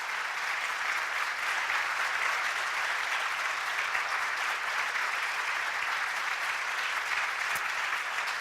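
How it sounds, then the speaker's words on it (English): An audience at a progress report event gives an extended round of applause, a continuous, even wall of many hands clapping at moderate distance that never lets up for over eight seconds. "An extended round of applause."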